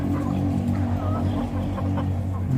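Hens clucking on a small backyard mini farm, a flock made up almost entirely of females, close and continuous over a steady low background hum.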